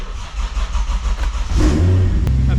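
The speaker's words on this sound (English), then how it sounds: "We started the car up." A Toyota Supra with a recent fuel leak repair idles after start-up, a steady low rumble that grows louder and fuller partway through, then holds a near, continuous engine note with no talking.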